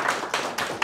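Brief burst of applause, a dense wash of clapping from a crowd, continuous and moderately loud for under a second.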